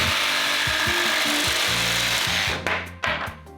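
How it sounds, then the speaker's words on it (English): A battery-powered jigsaw cuts through kitchen flooring, its steady buzzing rasp running loud and close for over two seconds before slowing and sputtering into short bursts as the blade finishes the cut. "Rather than using a chop saw or a circular saw, I'm using my jigsaw, battery powered"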